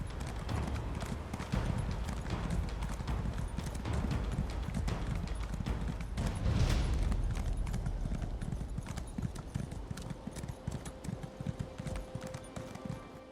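Horse Ember's hooves clip-clop steadily in The Elder Scrolls Online, a continuous fast rhythm of hoofbeats at a gallop over ground, moderately loud and heard on their own.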